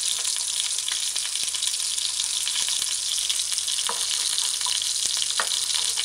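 A jerk burger patty fries in a pan with holes poked through it, giving a steady close sizzle with a few sharp crackles and stirring scrapes and no talk.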